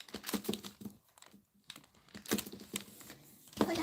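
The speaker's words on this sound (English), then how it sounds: "So let's cut that into small pieces." A blade chops polymer clay into small pieces on a work surface, giving a series of quiet, irregular taps and crisp clicks close by, with brief pauses between cuts.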